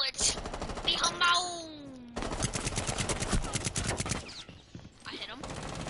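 Rapid gunfire from the shooter game Rainbow Six Siege rattles in long automatic bursts, loud and close, with excited players talking over it and a brief sliding tone early on.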